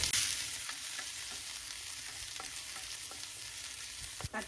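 Green chilies, garlic cloves and dried red chilies frying in a pan: a soft, continuous sizzle with faint scattered stirring taps, fairly quiet and with no voices.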